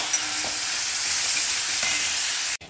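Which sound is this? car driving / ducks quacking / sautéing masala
sautéing masala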